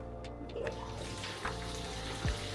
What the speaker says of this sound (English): Then I click this button, and it's from here that water will start to spill.